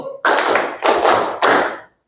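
A group of participants in an academic coaching and supervision training session claps on cue in a call-and-response clapping game, giving three loud, broad bursts of hand clapping close by, with short gaps between them.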